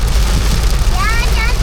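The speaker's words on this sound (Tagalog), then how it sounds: "Napakalakas na ulan!" Very heavy rain pours down at a river campsite as a loud, dense, unbroken roar, with a voice briefly rising over it.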